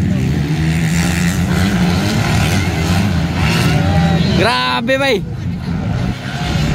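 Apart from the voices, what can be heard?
250cc motocross motorcycles racing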